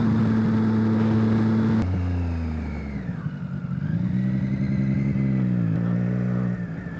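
A Triumph Street Triple motorcycle with a LeoVince LV One exhaust runs loud and close, its pitch dropping then rising again as the throttle is worked, with a steady rumbling drone throughout.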